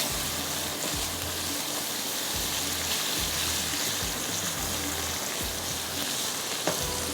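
Macaroni sizzling and frying in a pan with soy sauce, a steady crackling hiss with faint stirring scrapes, close and continuous without speech.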